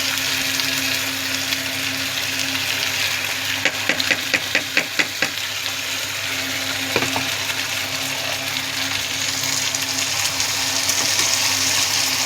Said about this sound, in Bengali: এই যে মাংসটা দিয়ে দিচ্ছি।